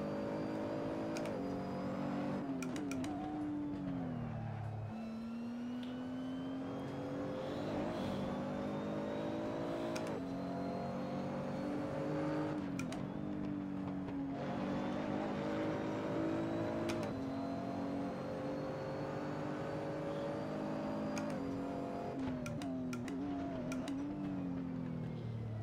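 Race car engine in the Assetto Corsa driving game, revving and shifting through gears in a steady loud drone with pitch sweeps up and down, continuous for the whole stretch with no talking.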